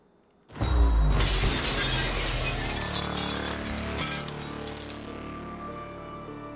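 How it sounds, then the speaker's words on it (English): Glass shattering in the video game Prey: a sudden loud crash followed by a long, bright spray of tinkling shards that slowly tapers off, with no talking over it. "Break the glass."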